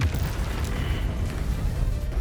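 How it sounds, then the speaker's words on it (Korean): A house explodes in the video game Baldur's Gate 3, a loud, dense, rumbling blast with crackling debris that fills the whole stretch without a break. "집이 폭발하는 재밌는 광경이죠."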